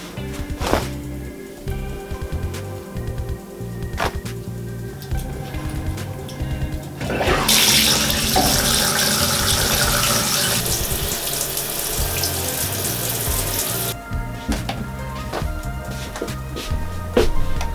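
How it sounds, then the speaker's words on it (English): Water from a shower runs steadily for several seconds, a loud broadband hiss that begins abruptly and cuts off cleanly, with clunks and faint handling sounds before and after. "I just had my very first shower with the Castille Soap"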